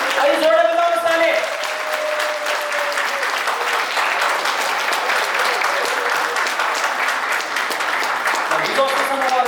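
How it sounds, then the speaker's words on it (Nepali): Guests at a Nepali Christian wedding ceremony applauding the couple, a loud, sustained wash of many hands clapping close by, with brief voices and a tonal sound near the start and end. "अहिले जोडे बजाउनुहोस् ताली।"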